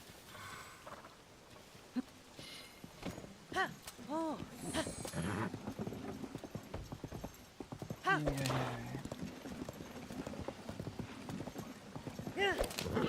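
Horse hooves clip-clop in Zelda: Tears of the Kingdom, steady rhythmic footfalls with a whinnying neigh from the game horse, while someone talks over the gameplay throughout.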